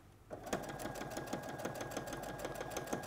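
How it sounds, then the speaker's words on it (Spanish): A domestic sewing machine runs a quarter-inch patchwork seam, its steady rapid stitching rattle continuous and close after a brief quiet start, with no talk over it. "Vamos a la máquina ahora y vamos a coser"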